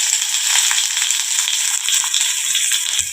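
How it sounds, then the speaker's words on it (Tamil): Chopped onion dropping into hot oil with popped mustard seeds and cumin, a loud, bright, steady sizzle and crackle close by, with a faint knock at the end. "நான் பொடியாக கட் பண்ணி வச்சுருக்கிற வெங்காயம் சேர்த்துக்கிறேன்"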